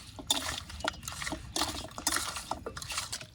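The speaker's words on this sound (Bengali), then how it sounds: "মাংসগুলো আজকের হাতে না মেখে খুঁটি দিয়ে নাড়িয়ে চালিয়ে নিলাম" Goat mutton pieces coated with chilli, turmeric and mustard oil being mixed with a spatula in a metal bowl, wet squelching and repeated metallic scrapes and clinks in uneven bursts, close and moderately loud.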